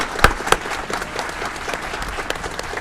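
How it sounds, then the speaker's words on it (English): Brief applause from a small audience in a city council chamber, with a couple of sharp, close claps at the start followed by scattered, moderate clapping for honourees who stood up. "Let's give them a round of applause"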